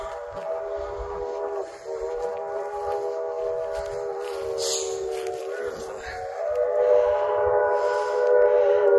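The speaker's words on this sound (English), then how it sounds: "Train from Virginia City making its trek back from Gold Hill up to VC." A train travels between Virginia City and Gold Hill, sounding a sustained, layered whistle chord that holds steady for several seconds at a moderate distance over a low rumble, with a voice briefly audible.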